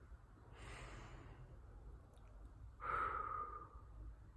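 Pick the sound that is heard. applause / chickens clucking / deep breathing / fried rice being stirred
deep breathing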